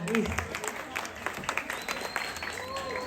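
Scattered, moderately quiet applause from an audience at a Balinese-style performance, with individual claps standing out and voices speaking over it.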